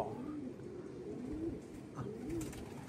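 Three soft pigeon coos repeat at a steady pace against a low, constant background hiss, at a racing pigeon release.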